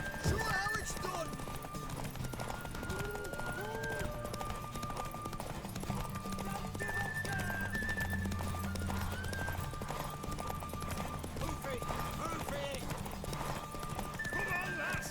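A horse in The Witcher 3 gallops with quick, rhythmic hoofbeats and lets out several neighs, the animal sounds running continuously beneath game music and characters talking.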